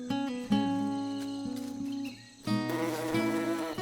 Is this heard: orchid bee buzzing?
yes